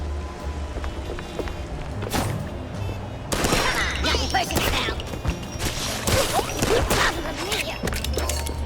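Gunfire in the detective video game Mouse P.I. For Hire: a run of sharp, repeated shots in quick bursts over a busy game soundtrack, loud and close, with short gaps between volleys.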